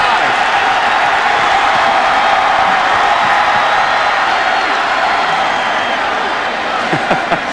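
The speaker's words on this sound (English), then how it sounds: "The Memphis fans don't understand. You don't make noise and disturb your own team in the closed in." Memphis football fans roar steadily in a stadium crowd during a game against Louisville, a dense, continuous wash of cheering and noise with a voice faintly over it.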